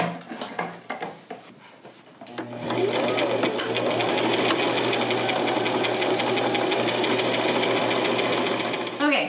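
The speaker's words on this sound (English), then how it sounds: "I'm gonna sew about a half an inch in from this edge here" Sewing machine stitching fabric panels together for a wrap skirt, its motor whirring steadily and close up after a few seconds of fabric handling and light clatter.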